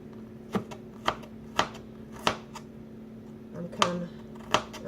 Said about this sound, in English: Okay, so I'm going to cut that Vidalia onion